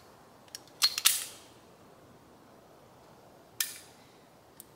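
A 9mm Makarov pistol slide is racked back and released, giving a pair of sharp metallic clacks near the one-second mark and another crisp metal snap a few seconds later, close and loud over a quiet room.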